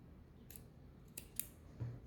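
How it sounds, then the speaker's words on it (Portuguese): Scissors snip the excess yarn on a crocheted banana amigurumi, giving a few quiet, brief clicks over faint background hiss. "E vou cortar esse excesso de linha."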